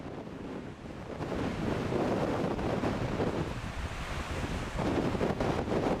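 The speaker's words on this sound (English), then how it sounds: "Winds are howling, waves are crashing into the shore" Hurricane wind roars across the microphone over the rumbling wash of waves crashing on a Jamaican shore under darkened skies, a steady loud blustery roar throughout with no voices.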